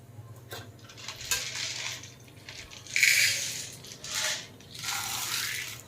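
Dry corn kernels poured into a cooking pot for homemade popcorn, scattered rattling and clinking bursts in several waves, fairly close and moderately loud.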